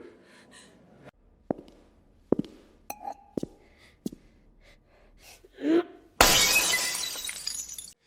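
Glass shatters loudly in a single crash near the end, after a stretch of scattered clicks, taps and a sharp gasp in a tense indoor scene.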